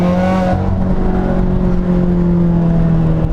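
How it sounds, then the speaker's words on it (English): A big-turbo Subaru WRX engine pulls hard in first gear, its raspy exhaust droning loud and close with steady, sustained tones for a few seconds and no talking over it. "Something about that WRX rasp that, I don't know, it's just nice pipes, Tamika, nice pipes."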